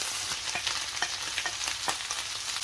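Steak pie filling fries steadily in a pan, a constant close sizzle broken by soft stirring scrapes, with no talking.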